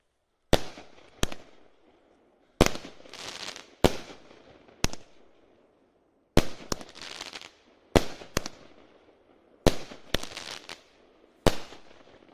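A Suicide King fireworks cake fires a long series of sharp, loud reports, single and paired bangs spaced about a second apart, each trailed by a crackling burst that fades before the next shot, with no talking.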